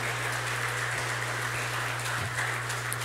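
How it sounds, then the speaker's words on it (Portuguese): Worshippers in a church congregation clap for the Lord, a continuous, even patter of many hands over a steady low electrical hum, with no clear speech. "Aplauda ao Senhor, meu irmão"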